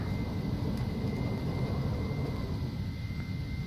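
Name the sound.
Phenom 300 jet at max power during takeoff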